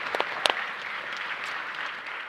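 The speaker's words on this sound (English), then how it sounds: "Please give our panelists another round of applause as they make their way off of stage." A conference audience applauds panelists, with scattered sharp claps at the start before the applause settles into a steady, moderately distant wash.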